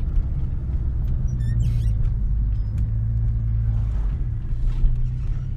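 A car drives along an old concrete road whose slabs have lifted with age, giving a steady close low rumble of engine and tires with faint thumps from the uneven surface and no talk.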